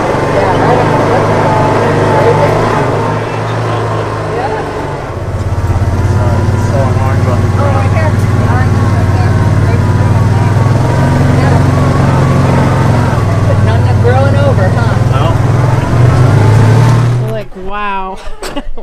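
An ATV engine drones steadily during a jungle ride in Baja's Los Barriles area, a low constant hum that shifts slightly in pitch while voices chatter over it, before cutting off near the end.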